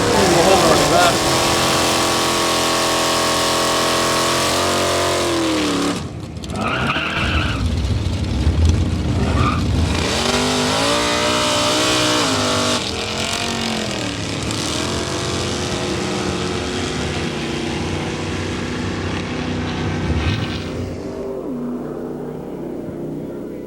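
A car on a slippery racing course, its engine revving and tires skidding through a run, loud and continuous with shifting pitch, while a voice talks over parts of it.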